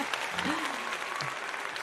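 An applause-like clap sound effect plays during a Lego building livestream, a steady wash of clapping noise lasting about two seconds, with a faint voice sliding through it.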